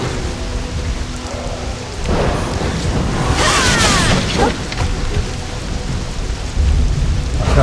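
Steady heavy rain pours in the video game Black Desert Online, with rolling thunder that swells into a loud, prolonged rumble midway before easing back under the constant downpour.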